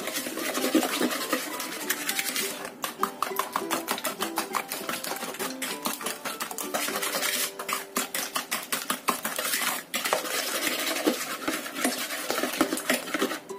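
Brownie batter is whisked and stirred by hand in a bowl, making a rapid, continuous rhythmic clatter of the whisk against the sides, close up and steady throughout with no speech.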